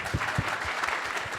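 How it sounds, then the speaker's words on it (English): An audience at a corporate production event breaks into brief applause, a dense crackle of clapping with a few louder nearby claps standing out, steady across the whole burst. "let's give another round of applause"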